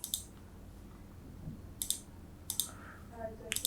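Sharp computer mouse clicks while setting up Amazon sponsored product ad reports, four or five isolated clicks spaced about a second apart, close and crisp over quiet room tone.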